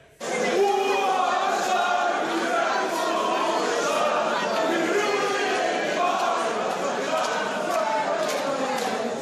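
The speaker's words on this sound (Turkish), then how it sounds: "Poyrazköy davası alkışlarla gençlik marşıyla böyle bitti." Crowd in a courtroom singing the youth march together amid applause, massed voices carrying a rough melody over scattered clapping, loud and continuous.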